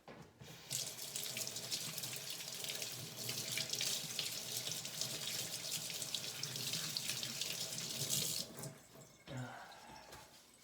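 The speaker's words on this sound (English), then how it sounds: "Gotta wash my hands." Water runs steadily from a tap into a sink during hand washing, a close, continuous splashing hiss lasting about eight seconds before it cuts off, followed by a few faint knocks.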